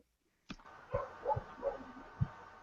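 Several dogs barking off-microphone indoors, a few separate sharp barks and yips spread over a couple of seconds after a sudden start, fairly faint and distant with no talk.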